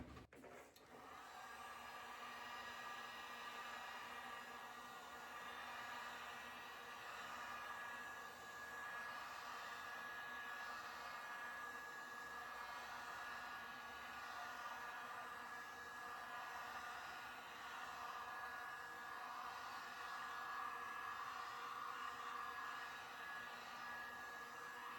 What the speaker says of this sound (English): putting the heat gun over the paint skin might melt it, but there is a layer of resin on it